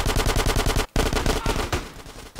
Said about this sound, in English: Who's shooting me from here?